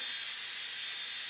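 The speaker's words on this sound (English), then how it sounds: "Tesla coil, you hear in the other part of the laboratory." A steady, high-pitched electrical hiss and buzz from a Tesla coil in a laboratory, constant and fairly faint, with no talking over it.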